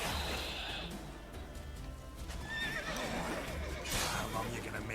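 A horse in The Witcher 3 lets out a loud whinny with clip-clopping hooves close by, while someone talks over it in an agitated voice.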